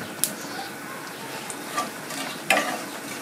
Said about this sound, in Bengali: তো তেলের মধ্যে দিয়ে দিচ্ছি আমি অল্প জিরে ফোড়ন।